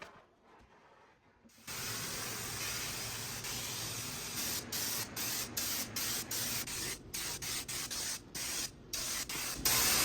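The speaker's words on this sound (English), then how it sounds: "added a couple of coats of that same paint from the Rust-Oleum Turbo Can" Rust-Oleum Turbo spray paint hisses steadily onto a plywood desktop, a loud close spray broken by a series of short pauses as the nozzle is released and pressed again.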